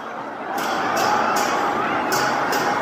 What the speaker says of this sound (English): Look at the crowd!